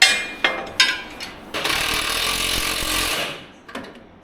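An impact wrench rattles in a long steady burst of about two seconds on a 1965 Chevrolet C10 truck, preceded and followed by short sharp clanks and brief bursts, loud and close.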